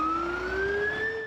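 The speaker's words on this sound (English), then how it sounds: "The screaming of sirens and the smell of smoke woke many in this suburban neighbourhood." Emergency vehicle siren wailing near a factory fire in a Croydon suburb, a steady rising tone with harmonics, loud and close, with no talk over it.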